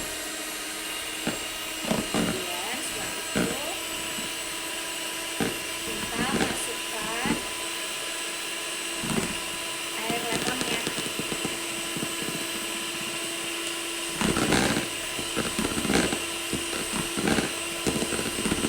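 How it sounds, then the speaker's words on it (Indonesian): An electric mixer whisks egg whites at medium speed for a cake batter, a steady whirring hum broken by brief scraping bursts, with someone talking over it. "kalau ini kita baru pakai mixer dengan kecepatan sedang"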